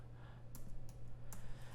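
Quick bursts of computer keyboard typing with a few sharp key clicks over a steady low hum.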